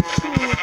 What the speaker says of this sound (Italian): Sta pecora non vuole morire.